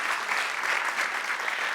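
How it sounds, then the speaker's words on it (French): An audience applauds the Opéra de Rouen at a cultural season presentation, a dense, steady wash of many hands clapping at close range with no break. "vous pouvez applaudir l'Opéra de Rouen"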